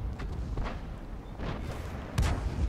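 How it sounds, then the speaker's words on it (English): Artillery fire in World of Tanks during a KV-2 battle replay: a few deep booming blasts, rumbling and mid-distance, rolling over a steady low drone of battle ambience. "The artillery on his team is doing a real good job."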